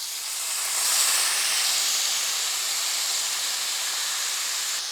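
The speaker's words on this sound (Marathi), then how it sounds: "आता हे पनीरचे तुकडे या पॅनमध्ये फ्राय करून घ्यायचे" Paneer pieces frying in ghee in a pan, a steady broad sizzling hiss that holds for the whole stretch, swelling slightly early on and then staying even, with no voices.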